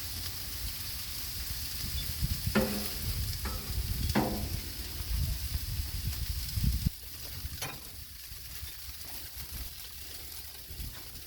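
Thawed, already cooked shrimp sizzle on a hot Blackstone griddle, a loud close steady frying hiss with a few sharp scraping stirs, easing somewhat quieter toward the end.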